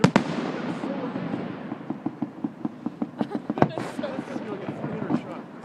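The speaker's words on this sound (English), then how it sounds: "That's one of the coolest fireworks I've ever seen." A fireworks display over water bursts in a rapid string of sharp cracking pops, with a heavier boom near the middle and crackle trailing off, fairly distant and loud; people's voices murmur faintly beneath.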